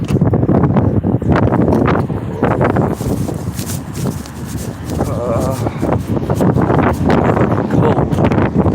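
Cold wind buffets the microphone outdoors in a steady, loud rush that surges and eases, with a voice talking over it at moments.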